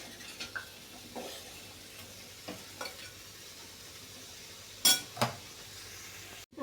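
Sweet potato slices sautéing in a pan for halwa, a quiet sizzle with occasional spatula scrapes and a couple of sharper metal clinks, close and sparse.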